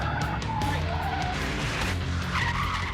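A Nissan Z skids at Irwindale Speedway, its tires squealing and scrubbing in a loud, continuous screech over a revving engine as rubber burns on a closed track.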